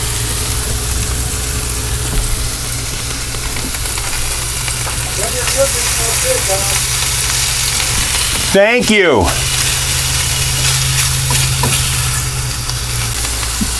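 Shrimp sizzling in hot oil in a pan, sautéed with cashews aboard a boat, a steady broad frying hiss throughout with a brief low rumble passing midway and a short spoken remark.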